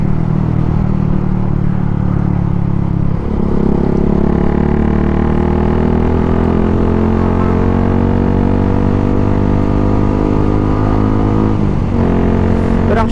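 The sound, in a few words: Suzuki Gixxer 155fi motorcycle with Akrapovic full system exhaust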